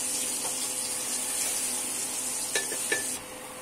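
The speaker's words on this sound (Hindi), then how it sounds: "हमारा चिकन अब अच्छी तरीके से भून चुका है।" Chicken browning in a pan gives a faint, steady sizzle, with a couple of brief clinks from stirring near the end.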